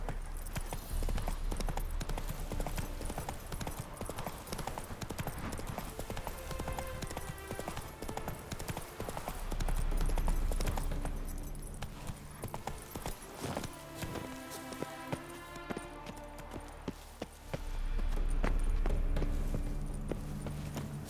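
Roach, a horse in The Witcher 3, gallops with a steady, rapid clip-clop of hooves throughout, close and prominent, with a few swells of louder hoofbeats and background game music.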